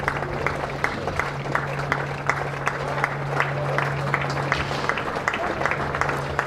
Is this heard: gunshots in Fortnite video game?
no